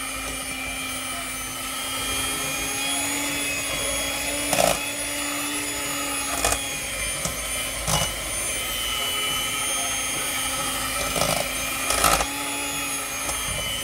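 A kitchen machine whirs continuously at high speed while mashing potatoes with their skins, a loud, even motor drone with a few brief bumps and clunks; no speech.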